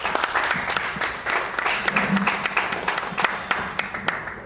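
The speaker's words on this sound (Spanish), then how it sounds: "Démosle un aplauso a Miguel." An audience at a talk about a book breaks into warm applause, a dense, steady clatter of many hands clapping close by that carries on for several seconds.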